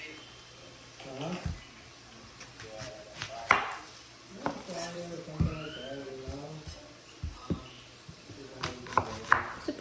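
A knife chops a large onion in a home kitchen, sharp, fairly close, irregular strikes on a board while a person keeps talking.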